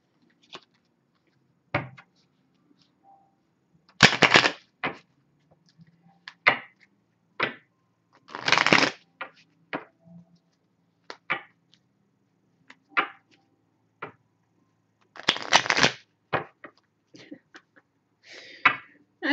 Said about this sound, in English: I shuffle these cards.